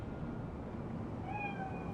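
A cat meows in a video game's neon city street, two short high cries near the end over a steady, dense ambient city bed.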